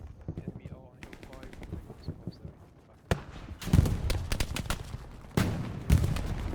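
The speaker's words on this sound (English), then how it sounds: "Looks like MG up in that silo, being able to put some fire onto the position" Bursts of machine gun fire in the WWII shooter Hell Let Loose, irregular clusters of shots with sharp louder volleys later, mixed with other battlefield gunfire during a competitive match.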